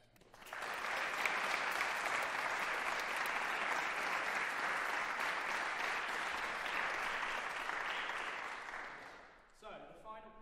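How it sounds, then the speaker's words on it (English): Audience applauding loudly and steadily for about nine seconds after a brass ensemble concert featuring tenor horn, with the clapping fading out near the end. "So round of applause for Beth."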